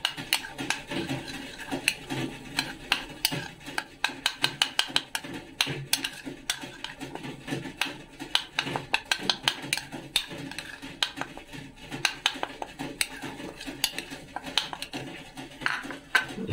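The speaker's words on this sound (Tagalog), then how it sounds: "Tapos, mix." A spoon stirs a siomai filling seasoned with soy sauce in a bowl, producing steady, close, rhythmic clinks and scrapes that repeat for the whole stretch.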